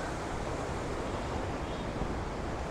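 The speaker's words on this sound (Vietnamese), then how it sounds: "Ồ sóng biển kìa." Sea waves roll onto the beach at Quy Nhon, a steady, faint broadband wash of surf with wind noise, continuous and without voices.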